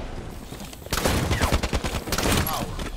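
Shotgun blasts and other weapon fire crack out in a Halo 5 multiplayer match, a burst of several sharp, loud reports in quick succession over game ambience.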